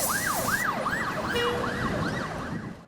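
Emergency vehicle sirens on a highway wail in a steady rising-and-falling cycle, loud and close over road noise, with a second siren faintly overlapping.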